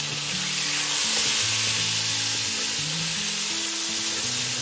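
Chopped tomato frying in oil with a five-spice tempering gives a loud, steady sizzle with a bright crackling hiss, continuous throughout and with no voices.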